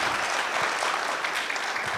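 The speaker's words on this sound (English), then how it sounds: "A loud of applause to the whole panel." Audience applause at a space industry conference panel session, a steady, full burst of clapping from a sizable crowd in a hall, sustained without a break.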